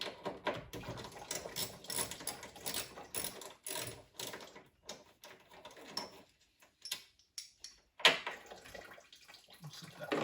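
A ratchet loosens a bracket fastener during a radiator replacement on a Nissan Maxima, rapid faint clicking bursts in several runs with short pauses, quiet and close, alongside small metallic clinks.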